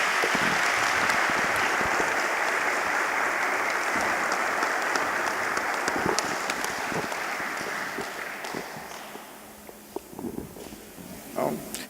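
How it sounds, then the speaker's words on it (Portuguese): Audience applause for the speakers at the close of a conference panel: dense, steady clapping from a full room that holds for several seconds, then thins and fades toward the end. "Eu peço uma salva de palmas aos expositores."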